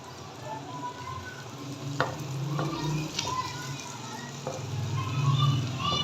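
An egg omelette sizzles in a pan over the heat, a steady close frying hiss broken by a few light utensil clicks, with faint voices at times.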